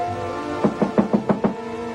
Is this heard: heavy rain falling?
no